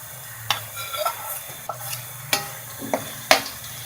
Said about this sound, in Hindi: इसको हम 1 से 2 मिनट के लिए फ्राई करेंगे